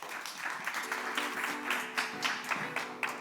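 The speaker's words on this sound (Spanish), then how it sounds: "Un aplauso para ellos, por favor." Audience at a Spanish-language debate on smart cities gives a short round of applause, moderately close and fairly quiet, with uneven claps and a faint low hum beneath.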